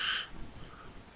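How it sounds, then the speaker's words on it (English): A computer keyboard being typed on: a quick cluster of sharp, close keystroke clicks at the start, then a few fainter scattered taps. "something wrong with my typing today"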